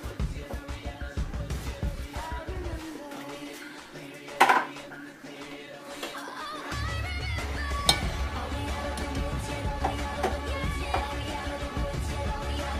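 Metal ice cream scoop clinking and scraping in a bowl of cupcake batter, scattered light knocks and clatter close by over several seconds, with faint voices at times.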